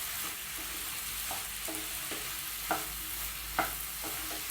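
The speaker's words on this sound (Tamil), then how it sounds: "நல்லா மிக்ஸ் பண்ணி விடுங்க." Roasted, cut bread cubes are stirred and tossed in a hot pan for restaurant-style chilli bread, with a steady sizzle under scattered scraping knocks of the spoon and two sharper clanks.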